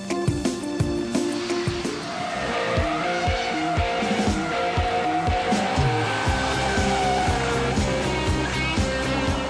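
A Corvette Stingray on a modern race track with a special suspension drifts and slides, its loud engine revving under sustained tire squeal and skidding, with rhythmic gear-change pulses throughout.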